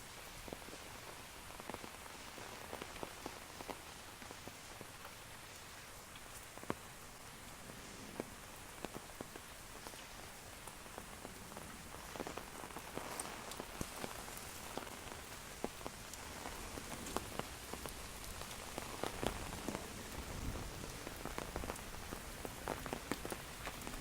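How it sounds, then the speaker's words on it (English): Heavy rain drums steadily and close on an umbrella overhead, a dense continuous patter with scattered louder drops. "it's a big hard rain. It's coming down really good. It's splashing under the umbrella."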